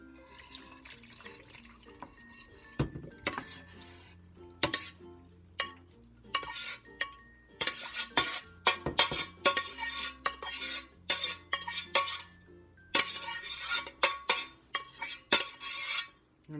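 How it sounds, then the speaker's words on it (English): Pasta being mixed through in a baking dish with cheese, giving repeated scraping and clinking of a utensil against the dish in irregular bursts, close and fairly loud, with no talking. "Now I'm going to mix the pasta in the baking dish."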